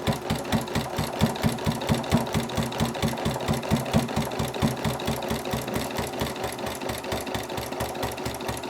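A quilting sewing machine stitches at a steady, fast even rhythm, each needle stroke a distinct mechanical thump, close and continuous throughout with no talking.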